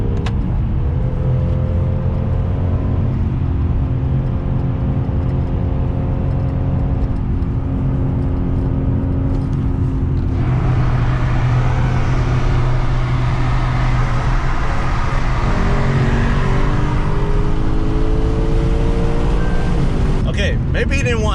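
A Lexus RC F accelerating in a racer flyby, its engine note rising through gear changes with a loud, close, sustained roar that climbs in pitch, shifts midway and builds again toward the end.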